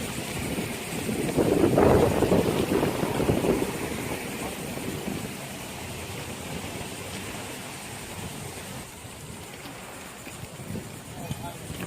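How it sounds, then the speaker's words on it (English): Strong wind buffets the microphone on a beach, a broad roaring rush that swells loudest early and then settles to a steady, noisy blow, with a voice briefly heard over it. "That wind is crazy."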